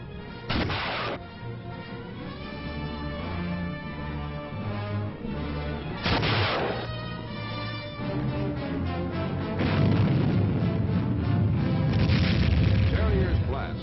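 Missile launches from an old military film on operational rocket weapons such as the Terrier: three sharp booming blasts, each followed by a sustained roaring rush, mixed with a steady background soundtrack that grows louder and denser toward the end.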